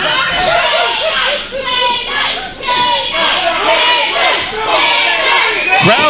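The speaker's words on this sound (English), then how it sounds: "Crowd chanting for K9." A loud, rhythmic crowd chant fills an indoor professional wrestling event, rising and falling in waves with dense cheering voices throughout.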